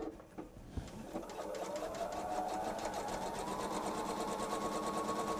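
Sewing machine stitching quilted fabric for a travel tote with a quarter-inch presser foot, starting with a few faint clicks then settling into a steady, close, continuous whir of rapid stitching.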